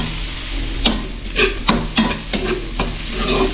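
Big red onions sautéing in a pan, a constant loud sizzle with a low hum underneath, punctuated by about seven rhythmic scrapes and knocks of a spatula against the pan.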